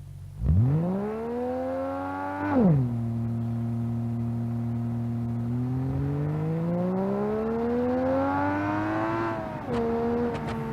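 A Turbo 6 car on drag slicks in BeamNG.drive revs hard at the track, drops briefly, then launches and climbs steadily through a long pull before another sharp rev change; loud and close, no talk.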